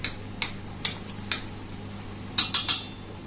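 A spoon stirs a creamy pasta sauce in a pot, thinned with a little water: light, quick clinks against the pot in an uneven rhythm, close and fairly soft, with a brief flurry of faster taps near the end.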